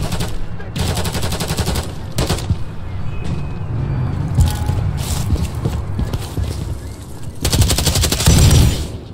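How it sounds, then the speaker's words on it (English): Light machine gun fire in Modern Warfare 3, rapid sustained bursts of rattling shots with brief pauses between them, loud and close, mixed with game clatter and some voice chat. "you want to test out the LMG"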